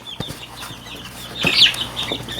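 Chicks held in the hand squawk and cluck in a brief burst, with a sharp louder cry near the middle and faint fluttering in a quiet indoor space.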